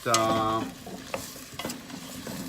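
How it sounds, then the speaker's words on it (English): Vegetables sautéing in a pot for butternut squash soup, with a spoon stirring and scraping against the pot over a low, steady sizzle; a loud tonal clatter at the start, then scattered knocks. "So now we're gonna let it saute for a few minutes"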